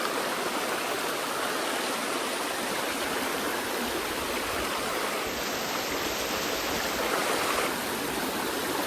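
River water rushes hard and fast under high pressure, a loud, steady roar of broad noise that never lets up. No voices are heard.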